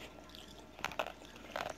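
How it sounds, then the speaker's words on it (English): Someone chews candy close to the mic, producing a few crisp crunching bites in quick bursts over a quiet background, with no talk during the chewing. "I'm gonna chew on them"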